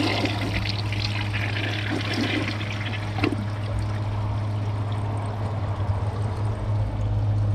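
A Kohler toilet, a 2005 Ingenium or 2008 Champion, flushing a grocery bag and microfiber towel together: a steady, continuous rush of water that stays loud and even for the whole stretch, with no voices.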